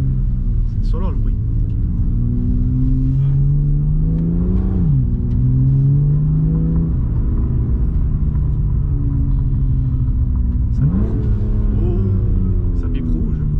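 A BMW M2 Competition with 410 hp and an Akrapovic exhaust line revs up repeatedly, its engine rumbling loudly with rising and falling sweeps, close by and steady throughout.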